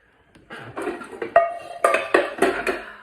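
Amway pots and frying pans are picked up and set down at an estate sale, giving a series of close metallic clanks and clinks that quicken toward the end, with no talking.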